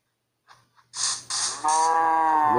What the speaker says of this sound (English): We captured the cows, we parked them outside of the fence